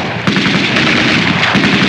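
Gunfire in a Laurel & Hardy war comedy, a dense, loud volley of shots and booms running without a break, with rough bursts layered over a constant roar.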